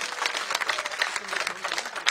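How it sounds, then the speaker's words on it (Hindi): Crowd at a Congress farmers' victory rally in Jaipur clapping in a dense, steady patter of applause that fills the whole stretch, with some voices mixed in. "दोनों हाथ खड़े करके ताली बजाकर स्वागत कर"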